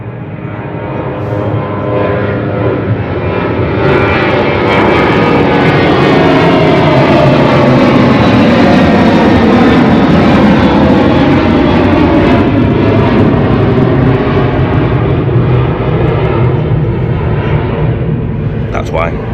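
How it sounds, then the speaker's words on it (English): A loud jet airplane roars overhead at a campsite at the British Touring Car Championship, its engine noise swelling to a peak in the middle and then slowly fading away. "I got woke up a couple of times, 3 or 4 times, by planes"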